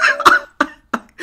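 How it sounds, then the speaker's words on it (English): A loud, close cough in a few sharp bursts, three or four quick hacks in rapid succession with brief gaps between them. "The cough."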